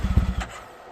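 A Yamaha YXZ 1000R SS side-by-side engine cranks and catches, giving a quick rhythmic chugging burst close by that settles into a low idle within a second.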